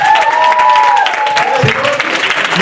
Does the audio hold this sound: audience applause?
yes